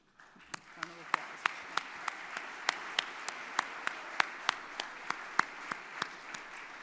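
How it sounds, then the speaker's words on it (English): Applause for an award recipient at a family and private business awards ceremony: sharp, evenly spaced claps repeat steadily, fairly faint, in a quiet room. "Round of applause."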